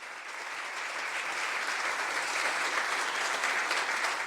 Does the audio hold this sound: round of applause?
yes